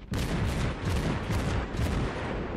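Naval gunfire in the World of Warships video game, shells fired at the battleship Kawachi: dense, continuous booming salvos with repeated heavy blasts rolling over one another, loud and close, with no voices.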